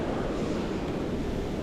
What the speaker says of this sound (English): let the waves hit it again